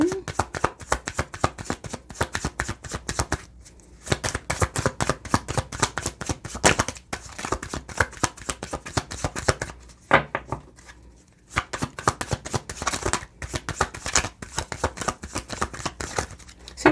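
A deck of I am affirmation cards being shuffled, with rapid, crisp riffling and flicking close by that runs in bursts, broken by brief pauses at a few points.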